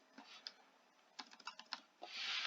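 Keystrokes on a computer keyboard, typed near and close-miked: scattered taps, then a quick burst of rapid clicks in the middle, followed by a denser run of typing at the end.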